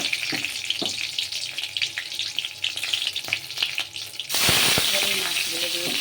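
Green chillies and black cumin fry in mustard oil in a wok, a crackling sizzle with spitting pops that swells abruptly into a louder, fuller hiss partway through.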